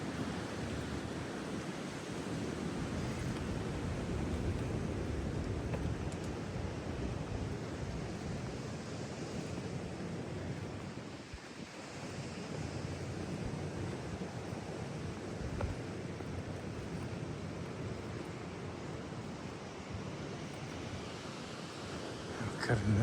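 Steady wind blowing outdoors during a walk, a continuous broadband roar buffeting the microphone with rough surging gusts and a brief lull midway, loud and close with no talk over it.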